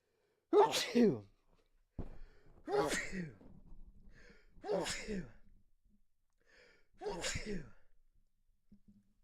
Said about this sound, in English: that will be a staple of the show because I sneeze every morning